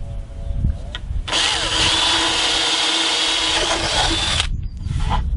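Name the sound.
power drill boring a through-hole in loudspeaker cabinet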